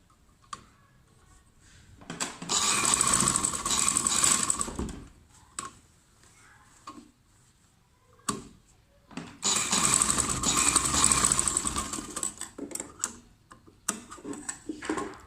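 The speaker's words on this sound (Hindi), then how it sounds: "तो इसको सेफ्टी के लिए यहाँ पे मैं एक सिलाई लगाऊंगी।" A sewing machine stitches the neckline of a little girl's summer frock in two bursts of steady, rapid whirring. Quieter clicks and handling taps fill the pauses.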